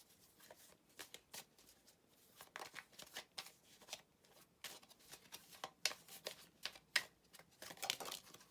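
Tarot cards are shuffled by hand in a quiet room, a close, soft series of riffling and slapping bursts repeating irregularly with no voice.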